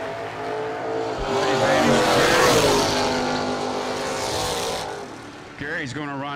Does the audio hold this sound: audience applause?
no